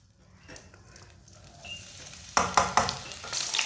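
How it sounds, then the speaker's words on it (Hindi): Finely chopped green garlic dropped into hot oil on medium heat, crackling and sizzling steadily, with sharp bursts of louder spattering and stirring near the end. "बारीक कटा हुआ लहसुन डाल लेंगे।"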